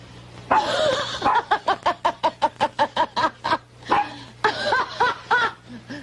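A dog barks in a fast run of a dozen evenly spaced barks, loud and close, with a few scattered barks around the run and a low steady hum underneath.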